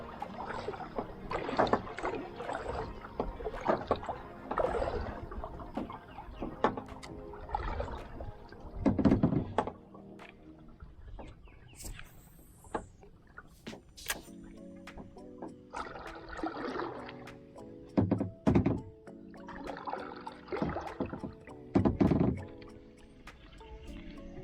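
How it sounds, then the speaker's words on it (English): Kayak on Lake Oconee in early morning, with intermittent wooden thunks and knocks against the hull and soft splashy paddle strokes, fairly close and quiet, in irregular bursts with pauses between. "Taking the kayak out at 6:30 in the morning."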